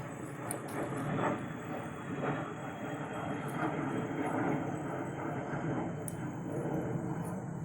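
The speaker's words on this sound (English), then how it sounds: "Sorry about the plane overhead." Propeller airplane droning overhead above a home vegetable garden during a bean harvest, a steady broad rumble lasting throughout with no clear peak, moderately loud and continuous.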